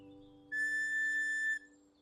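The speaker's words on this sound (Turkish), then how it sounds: "Düdüğümü herkesin duyacağı biçimde üflerim." A single steady whistle blast lasting about a second, clear and bright over a soft musical background.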